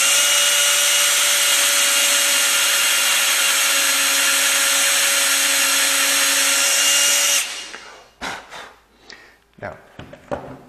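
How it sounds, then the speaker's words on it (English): A countersink bit drills into wood with a loud, steady power-drill whine for about seven seconds, then cuts off, followed by a few short knocks and handling sounds. "We want to countersink it here,"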